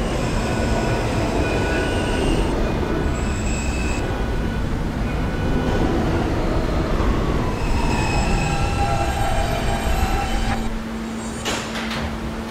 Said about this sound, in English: This is a Myrtle Avenue bound R local train.